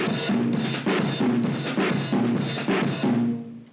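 A driving percussion groove in a merengue style, with repeated accented drum strikes in a fast, steady rhythm over a dense, continuous texture.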